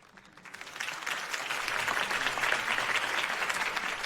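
Applause from a crowd in a Batman video game swells up quickly and holds steady, a dense wash of clapping that stays loud to the end.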